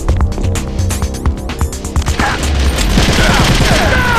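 Sustained automatic gunfire in the video game Metal Gear Solid: The Twin Snakes: loud, rapid bursts of shots over a low humming background, growing denser and heavier toward the end.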